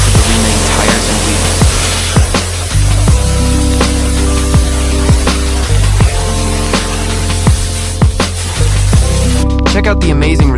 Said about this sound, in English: Give it a final rinse and repeat for the rest of the remaining tires